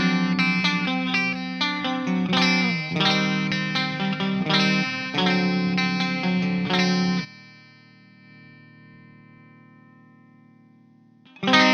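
A clean electric guitar tone from a Headrush amp modeler plays a run of chords and picked notes with a bright, slightly effected sound, then a final chord rings out and fades before another strum starts.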